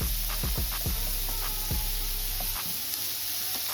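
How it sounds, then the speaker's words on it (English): Onions, celery, garlic and carrots sweat in a hot pan with a continuous close hiss of sizzling, broken early on by a few soft knocks of stirring. "Onions, celery and garlic and carrots just sweat off"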